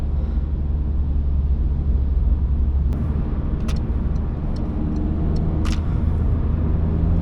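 A Citroen C-Elysee 1.6 HDi diesel drives in third gear up a sloped road in heavy rain in Bursa traffic, its engine a steady, even drone heard from inside the cabin, with a few faint clicks.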